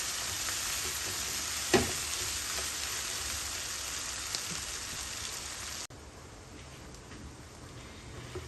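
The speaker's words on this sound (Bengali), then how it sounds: "এই অবস্থায় আমি মশলাটারে বালা করি ফ্রাই করবো, তার কাঁচা কাঁচা গন্ধটা যাইবার আগ পর্যন্ত।" Spice masala for a king prawn bhuna fries hard in a pan, a dense, loud, close sizzle with a brief stir near the start, then dropping abruptly to a softer sizzle for the last few seconds.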